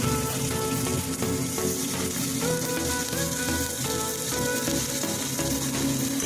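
Steady, dense sizzling as onions go into frying spiced masala for a pork curry, a constant crackling hiss throughout with low rumble beneath.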